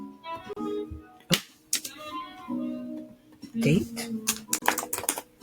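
Short bursts of computer keyboard typing click along under a person's speech, with scattered keystrokes and brief runs of taps between spoken phrases.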